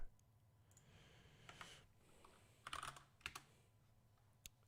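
Keys clatter quietly on a computer keyboard as someone types a note. Short irregular bursts of clicks play against a faint background hiss.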